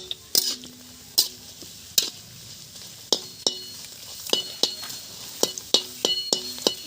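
Tilauri roasts and is stirred in a pan: a soft sizzle runs under a series of sharp, irregular spoon scrapes and clinks against the metal, close and distinct.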